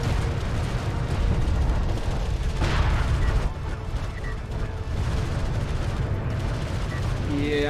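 Turrets in Homeworld: Deserts of Kharak fire steadily, a dense, loud barrage of rapid shots and blasts that rolls on without pause, with a sharper burst near the middle.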